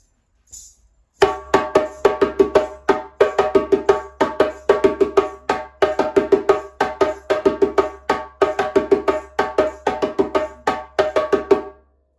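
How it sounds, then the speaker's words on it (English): Djembe two rhythm of slaps and tones on a hand drum, crisp repeated strikes in a steady grouped pattern after a brief pause, loud and close, with no voice over it. "we can move on to djembe two. Sounds like this."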